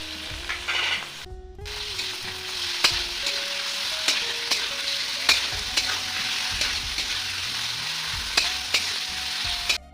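Chicken pieces fry in a hot wok with chopped garlic and chilli, a constant loud sizzle overlaid by repeated metallic scrapes and clinks of a spatula stirring, with no voices.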